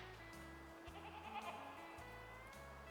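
Goats bleating in the hunting video game Way of the Hunter, a few drawn-out wavering calls from a distance that rise and fall over a low steady background drone.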